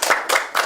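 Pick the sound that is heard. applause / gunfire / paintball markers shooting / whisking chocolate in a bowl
applause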